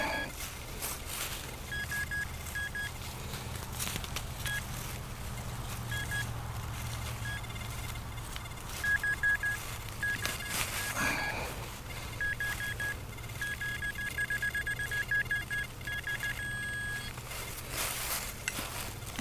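Metal detector emitting short repeated electronic beeps, some in quick bursts and one longer steady tone near the end, over a low outdoor rumble and occasional rustling thumps.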